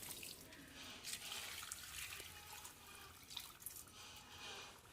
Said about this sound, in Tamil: கொஞ்சம் தண்ணி அப்படியே ஊற்றி விடலாங்க.